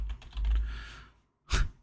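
Quiet computer keyboard typing picked up by a microphone hovering just above the keys: a short burst of soft clicks, a brief pause, then one more keystroke.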